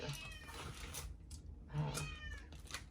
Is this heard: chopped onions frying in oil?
no